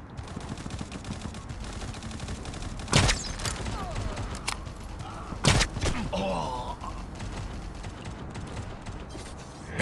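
Gunfire in the mobile shooter Guns of Boom, two loud sharp shots standing out over a busy bed of game noise and distant rattling fire, with brief voice callouts.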